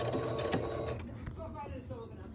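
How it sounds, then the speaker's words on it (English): A sewing machine running a quick reverse stitch across webbing, a steady close mechanical whir that continues throughout and eases slightly toward the end. "just before you get to that last pin, do a quick reverse stitch"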